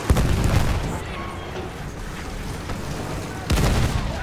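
High-explosive mortar shells land in a video-game battle, heavy booming impacts at the start and again near the end, with rumbling gunfire and battle noise between them.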